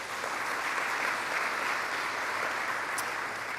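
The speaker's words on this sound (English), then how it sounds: "That deserves a round of applause," At Governor Hochul's East Side Building Fund announcement, an audience gives a round of applause, heard as a soft, distant, even patter of many hands that holds steady without speech.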